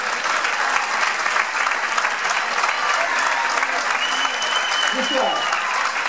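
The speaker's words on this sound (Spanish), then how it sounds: "Un fuerte aplauso para él." Dense, sustained applause from an audience in Guardo honoring the winner of the town's festival poster contest, loud and continuous from start to finish with no voices rising above it.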